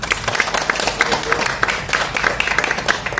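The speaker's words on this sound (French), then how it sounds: "Donc on peut applaudir également Audrey." An audience at a French bookstore book signing and talk claps for a few seconds, giving a dense, fairly close patter of hands with a faint murmur beneath.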